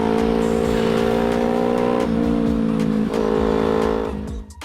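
A Kawasaki Z400 beginner motorcycle engine runs loud and close with a steady buzzing drone, dipping twice in pitch as if shifting gears, then fading out at the end.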